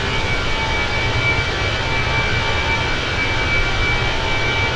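A steady, continuous Airbus engine roar from Microsoft Flight Simulator 2020, broadband and even throughout with a faint high whine on top, holding at constant loudness with no talk.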